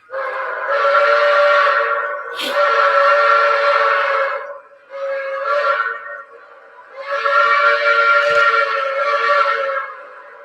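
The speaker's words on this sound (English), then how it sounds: "my favorite's the crossing sound" Loud, close whistle-like tones from a model railroad crossing signal sound in repeated long blasts with short gaps between them, a warning signal pattern with no talking.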